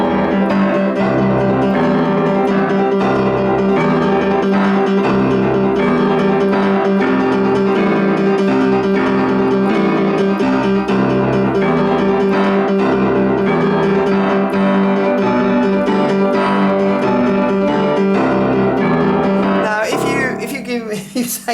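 Lively boogie-woogie piano played with both hands, a rolling bass line under busy right-hand chords, in a steady driving rhythm before stopping abruptly.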